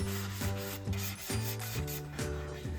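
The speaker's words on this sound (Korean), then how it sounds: "마지막으로 손사포를 사용해서 마무리했습니다" Hand sandpaper rubs across wood in a final smoothing pass after 120, 150 and 180 grit sanding, making about six rhythmic back-and-forth scratchy strokes, close and clear, with no speech.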